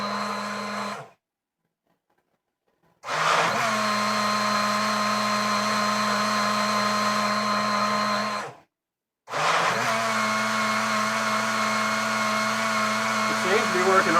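A small motorized Hamilton Beach blender chopping almonds whirs in bursts, stopping and restarting, a steady high-pitched hum with a faint rattle of contents.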